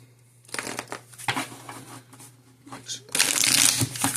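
Tarot cards are shuffled in quick, papery riffles in two bursts, the second louder and longer, with a steady low hum underneath.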